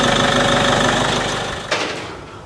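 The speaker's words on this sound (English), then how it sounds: "just going to let it idle now for 5 minutes" A car engine idling right after a turbo cleaner treatment, a steady close rumble that settles and drops in level, then a short thump near the end.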